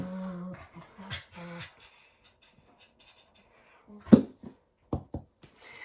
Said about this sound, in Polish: moje pieski tak się wściekają